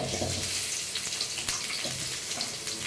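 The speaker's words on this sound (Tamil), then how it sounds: "இப்போ வெங்காயத்தை போட்டுக்கலாம்" Onion dropped into hot oil sizzles and crackles steadily in a home kitchen pan, a continuous close hiss with small pops throughout, and no one talks.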